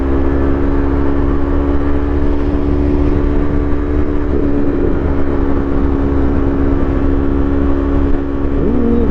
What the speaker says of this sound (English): there's a lot of traffic out here tonight